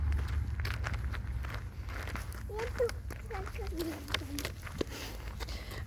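Footsteps walk over loose pebbles on a neighbour's property outdoors, a steady run of irregular crunching steps close by, with voices and some background chatter mixed in.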